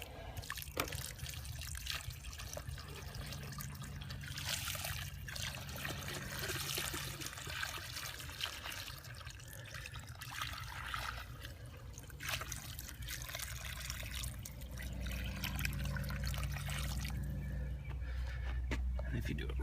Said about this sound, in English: I'm going to go ahead and fill it up with water.